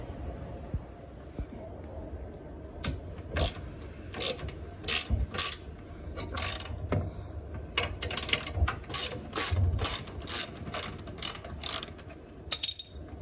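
A ratchet wrench loosening a 1/2 inch nut and bolt on a mower chute assembly, rapid clicking bursts repeated in quick succession, close and clear with no talking.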